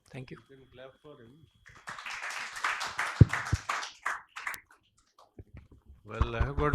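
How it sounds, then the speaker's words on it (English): Scattered clapping from an audience at a medical conference hall after a talk, a brief burst of claps and clicks between stretches of speech from people in the room. "You can clap for him."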